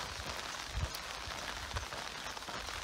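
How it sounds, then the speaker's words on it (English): Steady rain falls on a walking route during a November pilgrimage in Shikoku, Japan, a dense even hiss with a few louder drops landing close by, and no voices. "It's raining."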